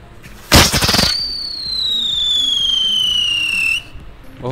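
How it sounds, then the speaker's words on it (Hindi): A whistling spinning ground firework (whistle chakkar) set off for Diwali, opening with a sharp crackling burst, then a loud, steady shrill whistle that slowly falls in pitch for about three seconds before cutting off. "ये है हमारी विसल चक्कर"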